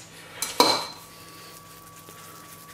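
A small ice cream scoop portioning Thai-style meatball mixture clinks sharply against a bowl twice in quick succession, close and bright, then faint kitchen quiet follows.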